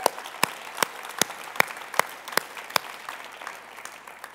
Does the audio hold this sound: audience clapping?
yes